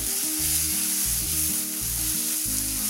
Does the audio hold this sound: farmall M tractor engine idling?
no